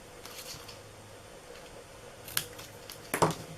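Scissors cut into the corners of a paper cupcake box, producing a few soft, close snips and crisp clicks near the end against quiet room tone.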